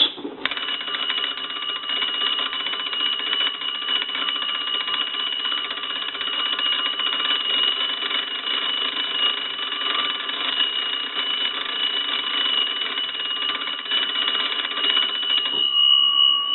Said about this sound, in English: I'll go ahead and crank the bells